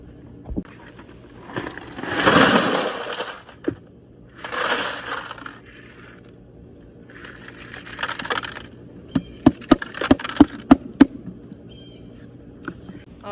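Rocks and stones being set into a solar-powered waterfall birdbath, heard as several loud grinding, crunching bursts followed by a run of sharp clacks and knocks of stone on stone, close by with no talking.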